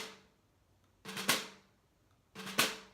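A drum stick drag rudiment with two quick grace taps leading into a main stroke, played twice about a second and a half apart; each figure is a short crisp cluster of close hits, near and alone in a quiet room.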